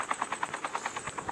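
A helicopter in Call of Duty battle royale thumps with a rapid, even rotor beat, about a dozen rhythmic blade pulses, steady and moderately close with no talk.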